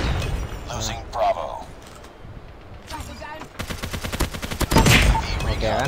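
Video-game gunfire, including shotgun blasts, arrives in bursts of sharp rapid shots with mechanical clicks between them, mixed with a speaking voice.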